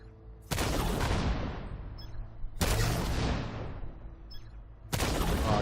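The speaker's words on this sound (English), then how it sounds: "Oh wait, I got a mortar." Mortar fire in The Division 2: three heavy booming blasts spaced a couple of seconds apart, each with a long rumbling decay, loud and close with no talking.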